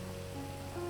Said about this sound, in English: All right, the rain's too much.